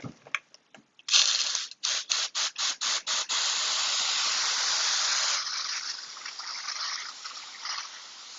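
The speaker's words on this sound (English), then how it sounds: "And then I'm just going to spray it." A spray bottle misting soil for indoor carrots fires a quick series of short misting bursts, then one long continuous hiss that fades into softer spritzes, close by.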